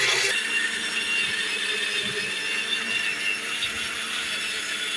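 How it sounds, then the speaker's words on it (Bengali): An electric mixer grinder whirs loudly while grinding a spice paste in a home kitchen, a steady high-pitched motor whine with a slight rattle throughout, close and continuous without talk. "মা মিক্সিতে মশলাটা তৈরি করে নিচ্ছে"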